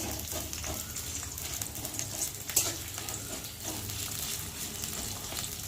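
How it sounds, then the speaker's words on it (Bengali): Onion and chilli frying in a pan give a steady, even sizzle that hisses continuously throughout, with no voices. "আর এখন দেবো পেঁয়াজ আর লঙ্কা। পেঁয়াজ লঙ্কাটা ভালো করে ভেজে নেব।"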